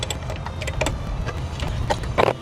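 A 10mm wrench works loose the bolts of a car racing seat, giving irregular metallic ticks and ratcheting clicks at close range, with a few sharper knocks near the end and no talking.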